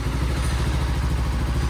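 A Kawasaki Versys 300X motorcycle idles after a cold start, parked overnight and in neutral, a loud, close, steady engine thrum with rapid even pulses and a slight mechanical clatter.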